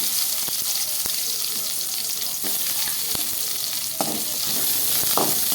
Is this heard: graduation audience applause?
no